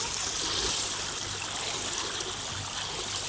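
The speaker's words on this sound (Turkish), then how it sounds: "Dalgalar oldu he." Sea water at Kuşadası churns and washes steadily around a swimmer in small waves, a close, continuous hiss of moving water with no voices.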